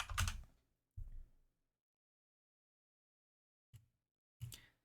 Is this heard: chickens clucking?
no